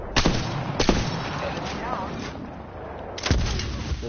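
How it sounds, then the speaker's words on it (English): Thermite grenade blasts in a video game: several sharp booming bursts, a pair early and another pair near the end, over low rumbling background with faint voices. "Thermite grenade."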